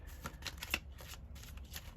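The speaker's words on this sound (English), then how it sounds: "So you just give them a shuffle as you would any deck" A deck of tarot-style message cards is shuffled by hand at a bedside, giving a quiet run of soft riffling flutters and card slaps over about two seconds, with no talking.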